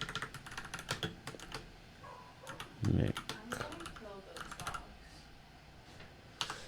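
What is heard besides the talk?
typing on a computer keyboard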